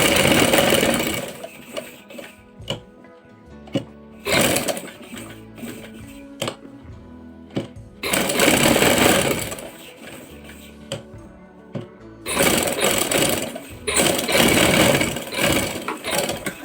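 Sewing machine stitching around a kameez neckline in bursts of close, loud, rapid whirring, separated by short pauses filled with soft clicks and handling noise.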